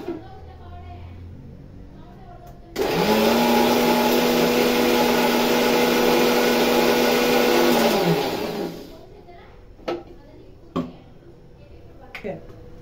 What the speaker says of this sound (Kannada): ಮಸಾಲೆ ಐಟಮ್ಗಳೆಲ್ಲದನ್ನು ಕೂಡ ನಾನು ಒಂದು ಸಣ್ಣ ಮಿಕ್ಸಿ ಜಾರ್ಗೆ ಹಾಕ್ಕೊಂಡು